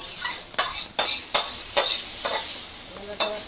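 Fish frying in hot oil in a village kitchen, stirred in a steady rhythm of about seven sharp scraping strokes over a continuous sizzle, close and loud, with no voices.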